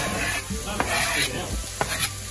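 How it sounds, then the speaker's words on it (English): Garlic and sweet Vidalia onion sautéing in a pan, a close, loud steady sizzle with a few stirring scrapes and clicks. "now we're gonna add some of the garlic and the sweet Vidalia onion. We're gonna let these saute."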